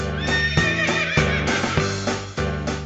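A horse neighs loudly and close in a Russian audio tale, a long whinny with repeated pulses, mixed with layered musical tones.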